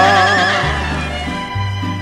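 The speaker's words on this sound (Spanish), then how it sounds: "su caballo relinchaba" A horse whinnies loudly over a ranchera song's accompaniment. The shrill, wavering neigh comes at the start and then fades as the steady instrumental backing carries on.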